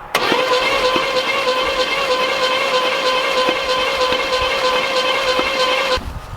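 An old Oldsmobile Cutlass engine, left sitting for 15 years, cranks over steadily for about six seconds with a sustained whirring starter drone and rhythmic pulses, loud and close, then stops abruptly.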